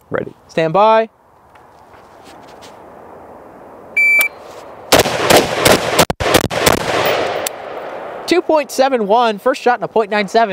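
Pistol fired during a timed shooting drill: a rapid burst of sharp shots after an electronic start beep, with people talking before and after the string of fire.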